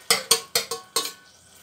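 Fried potatoes go into a pan for mutter paneer, giving four or five sharp clattering knocks of a spoon against the metal pan in quick succession, close and fairly quiet, then a faint sizzle.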